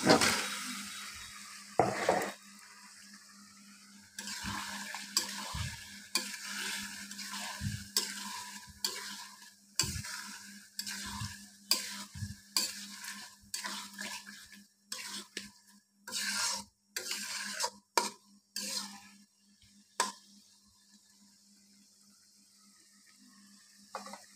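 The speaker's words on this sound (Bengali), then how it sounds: "এ পর্যায়ে আমি এখন এতে দিয়ে দেব কেটে ধুয়ে রাখা মাছগুলো" Cut pieces of shing fish fry in a spice masala for a Bengali bhuna, with a soft sizzle under repeated scraping and knocking strokes of a spatula against the pan, irregular and close.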